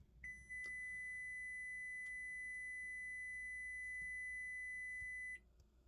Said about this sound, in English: You hear the beep.